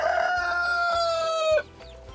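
Chickens in a backyard coop, with a loud rooster crow held for over a second and then cut off, followed by softer clucks and chick peeps close by.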